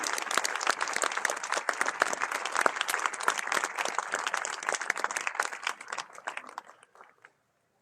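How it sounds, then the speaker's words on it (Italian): An audience at the Villa Manin grand finale of the Confini exhibition applauds curator Marco Goldin: loud, thick clapping from a large crowd that holds steady for several seconds, then thins and dies away into silence. "Facciamo sentire questo applauso."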